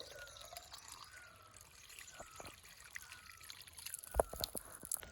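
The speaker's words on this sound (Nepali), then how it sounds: "मुलको पानी" Cold spring water trickles and drips softly in a hill village in Gulmi, Nepal, with a quiet, steady flow that turns into louder splashes near the end.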